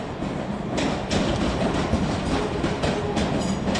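A class 385 train arriving at Edinburgh Waverley station, steady rolling rumble with rhythmic clickety-clack of wheels over rail joints, fairly close and continuous, no voices.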